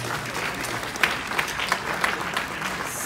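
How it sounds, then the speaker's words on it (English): An audience applauds cultural leaders at a gathering honoring Ghana's Queen Mother, with a sustained wash of clapping broken by a few sharper, closer claps. "Please give them a round of applause."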